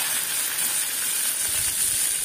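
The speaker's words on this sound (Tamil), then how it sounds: "ஆயிலில் ஃப்ரை பண்ணிக்கோங்க." Mustard seeds and curry leaves frying in hot oil for a Bombay chutney, giving a steady close sizzle and hiss that swells slightly with crackling near the end.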